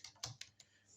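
Several quick keystrokes on a computer keyboard, close and fairly quiet, in an uneven pattern of four or five taps over about a second with no talking.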